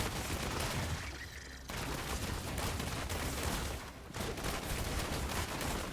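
Rapid shooting attacks in the video game Diablo Immortal, with a Demon Hunter-style build farming monsters, form a dense continuous barrage of loud close game gunfire, broken by two short lulls before it resumes.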